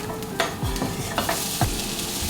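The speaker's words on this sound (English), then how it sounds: "Now that there's a lovely amount of colour on the onions, I'm going to add the peppers." Onions and peppers fry in a hot pan with a steady loud sizzle while a utensil stirs them, giving several scraping pushes, close up and with no talking.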